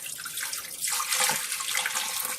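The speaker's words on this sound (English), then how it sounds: "Pour that in the back of the toilet" Antifreeze is poured into the back tank of a toilet in a cottage being winterized, a steady close splashing pour of liquid lasting a couple of seconds.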